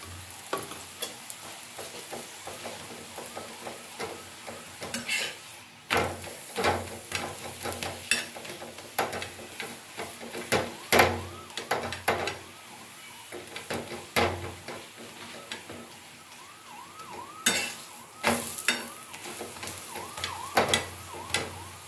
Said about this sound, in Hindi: तो घी को हम पहले साइड से डालेंगे